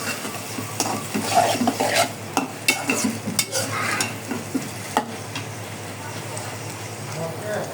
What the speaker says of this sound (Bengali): এটা দিয়ে কিছুক্ষণ আমি নেড়ে নিব। কিছুক্ষণ কষিয়ে